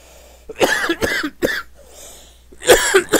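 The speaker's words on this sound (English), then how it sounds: "I have this shitty cough" Several harsh coughs in quick succession, close to the microphone, followed by a pause and then another burst of coughing.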